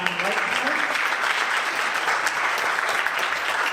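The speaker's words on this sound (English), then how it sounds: "Would you please give them a round of applause?" Audience applause at a school fall jazz concert: dense, continuous clapping from a full room, loud and even throughout with a faint voice briefly underneath at the start.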